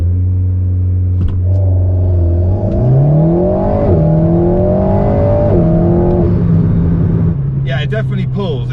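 A car with a dual-clutch gearbox accelerates hard, its engine note rising steeply through the revs, then dropping sharply at each quick gear change before climbing again, loud and close from inside the cabin.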